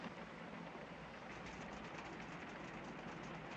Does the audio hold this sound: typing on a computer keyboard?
no